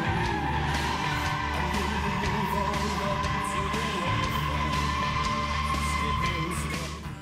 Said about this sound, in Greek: να ικανοποιήσουμε την ακοή μας από το μοναδικό ήχο που βγαίνει από τον κινητήρα των 4 λίτρων της μικρής, κατά τα άλλα, Mustang